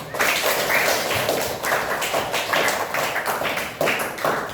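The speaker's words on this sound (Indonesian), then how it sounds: "coba tepuk tangan dulu kita semua" A classroom of fourth-grade students claps together in a lively, sustained burst of fairly close hand claps lasting several seconds.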